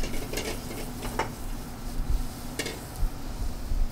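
Shallots, garlic and prosciutto fry in a hot pan for a lamb meatloaf, a steady close sizzle with occasional stirring scrapes and light clinks of utensils against the pan.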